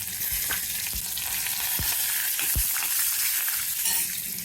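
Curry leaves sizzling in hot oil with peanuts, mustard seeds and asafoetida for a tempering, giving a loud continuous frying hiss with scattered sharp pops and spatters.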